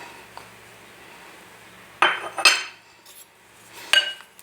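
Pakora batter ingredients being mixed in a bowl, quiet background and then a few clinking utensil-against-bowl knocks and scrapes in short bursts.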